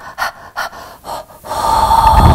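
Breathing during a gentle evening yoga session: a few short breath bursts, then a long, steady exhale that swells louder toward the end, close and clear with no talking.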